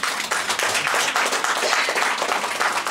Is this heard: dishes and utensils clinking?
no